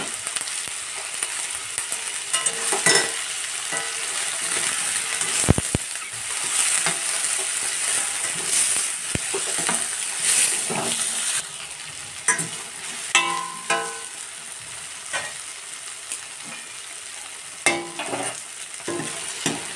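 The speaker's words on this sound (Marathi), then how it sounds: "मसाले, लसणाचे पाकळ्या आहे, आल्याचा तुकडा आहे, काजू, मिरची, दालचिनी, मोठी इलायची ही आपण छानपैकी कढईत भाजून घेणार आहे" Garlic cloves, ginger, cashews, chilies, cinnamon and black cardamom dry-roast in a kadai for paneer masala, with a steady soft sizzle, close stirring scrapes and occasional clicks of the spoon against the pan, and no talking.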